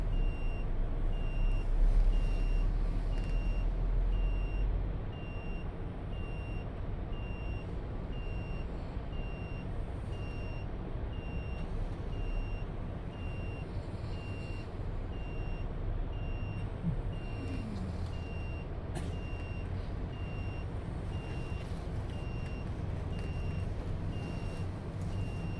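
Truck reversing beeps, a faint regular beeping pulsing steadily in the distance over a continuous low rumble of road and engine noise, with no talking.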